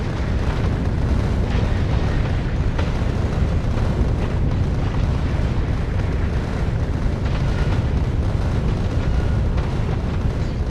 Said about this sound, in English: I think the explosions from the explosive rockets are more dangerous than the asteroids at the moment.